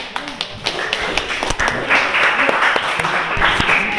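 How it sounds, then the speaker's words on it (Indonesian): A classroom group gives applause after a student group's presentation, with scattered claps and taps that form a steady, fairly loud patter and a faint murmur of voices underneath. "beri aplaus untuk kelompok 2"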